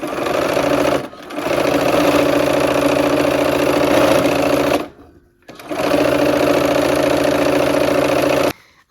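A sewing machine stitches the rows of a nine-patch quilt in long, loud, steady runs, with two brief pauses between bursts of rapid mechanical whirring.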